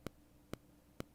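Three evenly spaced metronome clicks in Soundtrap, about half a second apart, sharp and faint over a low steady hiss.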